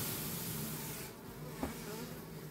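Honeybees buzz steadily at an opened beehive, a close, continuous drone with one brief knock partway through.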